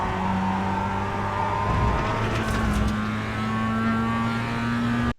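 A Mazda MX-5 Cup car in iRacing at Laguna Seca accelerates out of a corner, its engine note droning steadily and rising in pitch, loud and close, then cutting off abruptly at the end.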